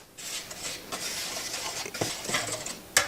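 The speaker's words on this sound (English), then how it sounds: "Next we're going to whisk this together." A whisk stirs flour, cocoa powder, baking powder and salt together in a bowl for cookie dough, making a brisk close scraping and rubbing with light clinks against the bowl and a sharper tap at the end.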